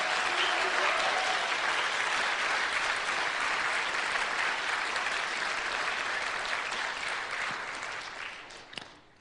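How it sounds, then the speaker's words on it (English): A large audience breaks into loud, dense applause that fills the hall evenly, holding strong for several seconds before fading out near the end. "I ask you with me right now by your applause, to claim your freedom and your sovereignty in this moment."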